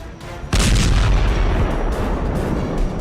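Heavy missile blast striking a Russian naval base, a sudden loud boom after half a second of quiet rumble, followed by a sustained roaring, crackling rumble.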